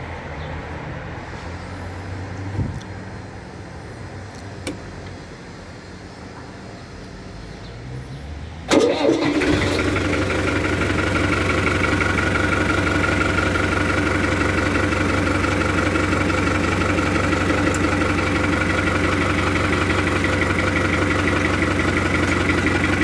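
A grey-bodied Fiat 7056 tractor engine cranks over and catches after a quiet stretch, then settles into a loud, steady diesel idle that runs on without a break.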